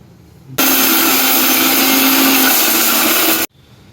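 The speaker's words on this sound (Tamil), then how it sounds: "எல்லாத்தையும் இந்த மிக்சி ஜாரில் போட்டுட்டு இப்போ நம்ம அரைக்க போகிறோம்." Electric mixer grinder jar pulverizing dried flowers with sambrani powder, a loud steady high-pitched whirring grind that starts abruptly, runs about three seconds alone and cuts off sharply.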